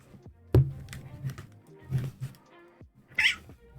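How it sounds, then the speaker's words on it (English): A house cat meows a few short times, close and moderately loud, amid sparse clicks and knocks with quiet stretches between. "I hear a cat."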